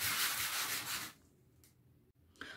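A rubber flip-flop sole is sanded by hand with sandpaper, giving a rapid, close scratchy rubbing that runs for about a second, then stops, followed by quiet handling and a brief scrape near the end.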